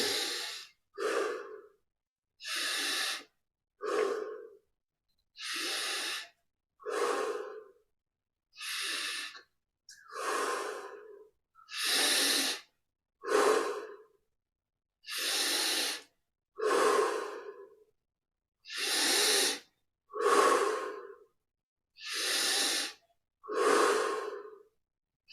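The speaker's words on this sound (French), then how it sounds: "On respire profondément." Deep, slow breaths during a yoga exercise, about twenty audible inhales and exhales in an even rhythm, close and clear with no talking over them.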